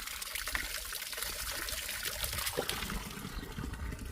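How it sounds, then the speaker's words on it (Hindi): Cold water flows steadily from a village spring spout, a constant close trickle and splash that carries on alone, unbroken, without any talk. "गांव में इस धारे पर ठंडा ठंडा पानी आता है।"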